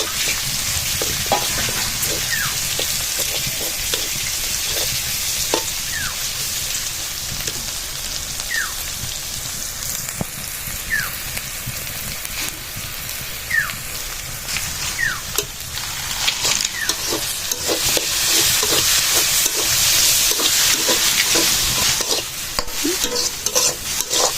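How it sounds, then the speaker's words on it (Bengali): Loud, continuous hiss of onions frying in mustard oil like rain, on a village clay stove, with a spatula scraping and knocking in the pan at intervals and a few faint chirps in the background. "সর্ষের তেল দিয়ে বাগার দিচ্ছি"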